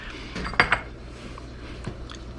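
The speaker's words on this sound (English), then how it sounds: "Throw the lid back on and let that simmer down for about another 10-15 minutes" A metal lid set back onto a pot of simmering corn chowder gives two quick close clinks, followed by faint kitchen noise.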